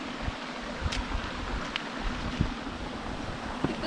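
A waterfall in Jibhi, Himachal Pradesh, gives a steady broadband roar of rushing water from start to end, with faint brief knocks and some wind rumble mixed in.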